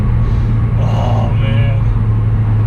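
A car's engine rumbles loudly as it shifts into third gear at about 55 mph on a highway, a steady low drone with a brief rise in pitch mid-shift, heard from inside the cabin.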